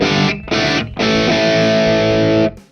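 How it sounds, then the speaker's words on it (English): An amplified guitar with its mid-range cut plays a thrashy, gritty distorted tone. Three loud sustained chords or notes are heard, separated by brief gaps, and the last one rings longest before stopping abruptly. "as we turn the dial to the left, we reduce the mid-range frequencies for a thrashy and gritty sound"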